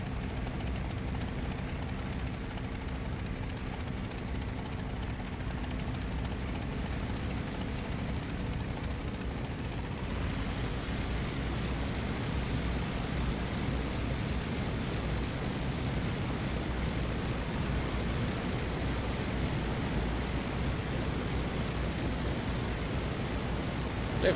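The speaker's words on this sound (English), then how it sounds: "Lifts off rather nicely for such a heavily laden plane." A heavily laden World War I-era plane's engine drones steadily as it lifts off in the Rise of Flight flight simulator, a constant broadband roar that holds at the same loudness throughout, with no voices.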